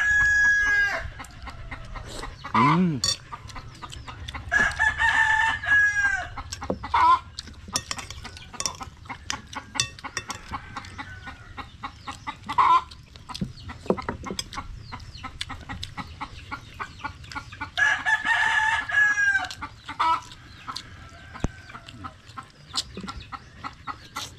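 Chickens clucking and stirring nearby while a rooster crows twice, loud and drawn out, amid scattered pecking and bird noises.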